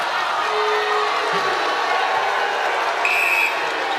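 A netball crowd at a Ferns match reacts to an umpire's call with a sustained, fairly loud murmur and roar of many voices that holds steady throughout.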